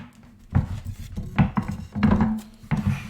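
A potato peeling knife trims a wooden beehive frame being readied for replacement in the hive, giving four separate scraping, knocking cuts spread across a few seconds, fairly close and moderately loud.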